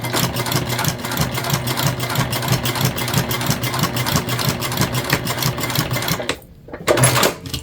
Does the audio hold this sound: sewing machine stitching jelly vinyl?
yes